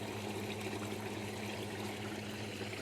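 Water spewing steadily out of a pipe beside a steep, muddy loop road after rain in a park, a continuous close gushing rush with no pauses.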